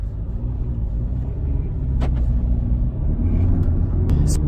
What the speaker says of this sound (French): Et là, oui, on est bien dans un diesel.